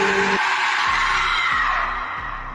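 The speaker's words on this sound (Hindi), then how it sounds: "तभी अचानक एक आवाज चीख पड़ी।" A loud, sustained scream in a Free Fire horror setting near an old graveyard, starting abruptly and holding steady for a couple of seconds, with low rhythmic thuds underneath as it slowly fades.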